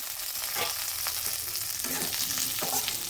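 Continuous close sizzling of potatoes frying in a covered pan over medium heat, with faint stirring scrapes scattered throughout.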